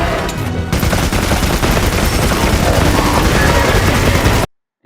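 A heavy bowgun firing rapidly in the video game Monster Hunter Wilds: a dense, loud, unbroken stream of shots for several seconds that stops abruptly into silence.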